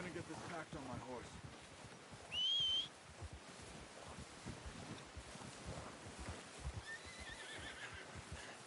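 A horse in the Red Dead Redemption 2 video game whinnies loudly once in a short high burst, with soft hoof clops, a faint whistle and light wind around it while people talk nearby.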